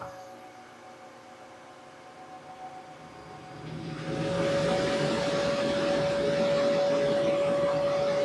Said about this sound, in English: it makes some noise coming from this inverter, like it's when that blower spools up, like it's really trying